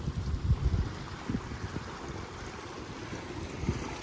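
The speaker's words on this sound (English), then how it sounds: "you got fresh water running in from this beautiful valley" Fresh water from a valley runs down onto McClure's Beach at Point Reyes on the Pacific, a soft rushing wash mixed with wind and surf, with a few louder low gusts early on.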